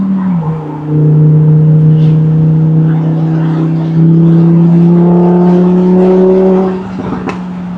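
A Lamborghini Huracan Spyder LP610 engine drones steadily, then its pitch climbs as the revs rise, with a brief shift near the end; loud and close.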